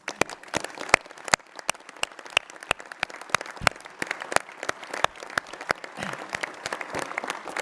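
Audience applause at a New Year's greetings ceremony in France: a sustained round of clapping from a hall crowd, steady and fairly loud for the whole stretch, with no talk over it.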